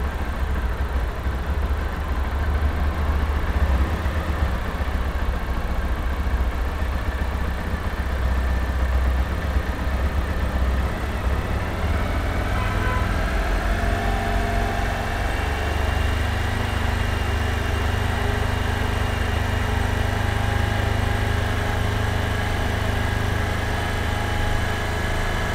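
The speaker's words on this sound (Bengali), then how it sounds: "দেখেন বিসিএস স্ক্রু যখন আমি লুজ করছি তখন এই বাইকের আরপিএম আবার বেড়ে গেছে" A motorcycle engine idles steadily while its carburettor BCS screw is loosened, the even mechanical hum shifting pitch partway through as the revs rise, close and continuous with no speech.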